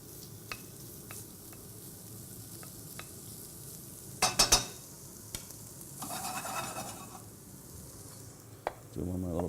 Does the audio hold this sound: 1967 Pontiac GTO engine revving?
no